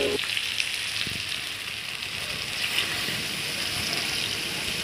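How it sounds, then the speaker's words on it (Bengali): Water is poured into mutton curry frying in a pan after the meat has been browned. A steady, close sizzle and hiss carries on throughout. "এখন এর মধ্যে জল দিয়ে দেব পরিমাণ মতো।"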